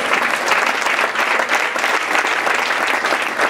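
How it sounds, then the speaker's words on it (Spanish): Loud, dense applause from a church congregation, steady clapping that continues evenly from start to finish without pause. "Denle un aplauso"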